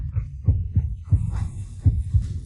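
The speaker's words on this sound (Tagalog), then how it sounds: "Ang bilis bigla ng tibok ng puso ko." A fast heartbeat effect, with deep, muffled thumps arriving in quick double-beat pairs at a steady racing pace over a low hum, moderately quiet and with no talk.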